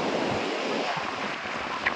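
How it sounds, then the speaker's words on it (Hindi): A strong wind blows at a bridge, a constant loud roar buffeting the microphone for the whole stretch with no pause. "बहुत तेज हवा चलती है यहाँ से।"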